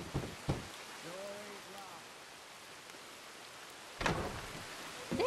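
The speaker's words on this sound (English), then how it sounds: "oh, it started raining. No, did it have to start raining right now?" Rain falls in Red Dead Redemption 2 as a steady, soft hiss, with short bursts of voices and a few sharp knocks over it.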